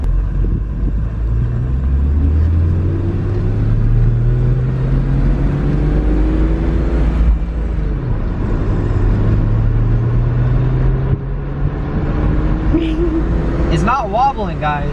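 A BMW E36 drives onto a main road, its engine droning steadily with rising and falling tones from gear changes under nearly continuous close talk inside the car.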